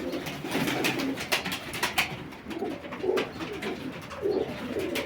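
Pigeons coo repeatedly on a rooftop, soft rolling calls rising and falling in a steady rhythm at moderate distance over a faint outdoor background.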